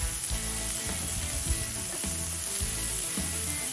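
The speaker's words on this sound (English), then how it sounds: "lay them down on the grill too to give it a nice toasting." Halved baguette pieces spread with softened butter toast on a grill for Vietnamese banh mi burgers, a steady close sizzle with faint rhythmic scraping under a low tonal background and no voices.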